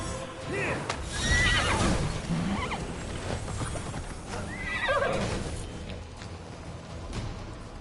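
A horse in the video game Immortals Fenyx Rising neighs and whinnies twice over rhythmic clip-clop galloping hoofbeats, loud and close, under game ambience.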